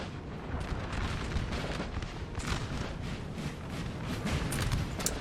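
Continuous rumbling battle noise from Napoleon: Total War, with distant artillery fire booming across a broad field in steady, overlapping waves, loud and dense with no speech.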